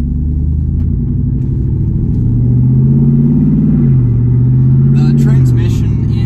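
A Jeep Wrangler Rubicon 392 engine and exhaust rumble steadily at close range, the deep note rising and falling slightly as it revs, with a faint sharper noise near the end.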